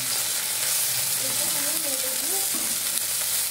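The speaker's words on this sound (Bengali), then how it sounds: "ঢ্যাঁড়স ভাজাটা হতে হতে ভাবলাম কয়েকটা কথা বলি আপনাদের" Okra frying in a small nonstick wok, a steady close sizzle with soft stirring scrapes that runs continuously and unbroken, with no talk over it.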